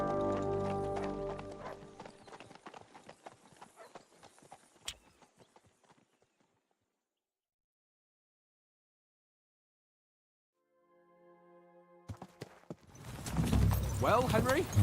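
Horse hooves clip-clopping in the medieval game Kingdom Come: Deliverance 2, with a burst of steady hoofbeats that fades into near silence before more hoofbeats and clatter return loudly at the end.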